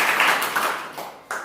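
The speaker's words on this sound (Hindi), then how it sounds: "शाबाश, तालियां" Children in a classroom clapping, a short burst of quick, fairly close applause that fades briefly and then picks up again at the end.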